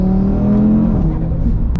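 A 650BHP Stage 3 Audi RS3 revs hard while driving, its engine drone loud, close and steady, rising in pitch and then easing off.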